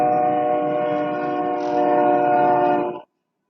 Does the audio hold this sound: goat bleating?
no